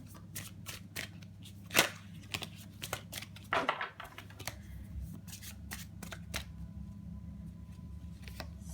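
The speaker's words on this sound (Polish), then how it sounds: "zaczynamy tasować karty" Tarot cards shuffled by hand close up, giving a steady run of crisp snaps and riffles with a few louder slaps, over a low background hum and with no talking.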